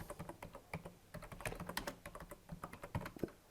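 Keys clatter on a computer keyboard as a command is typed, a quick irregular run of soft clicks, close but quiet, with no talking.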